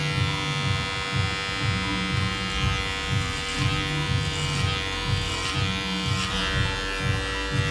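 A steady electric buzz of hair clippers cutting a fade, running close, humming continuously with slight shifts in tone as they take off hair.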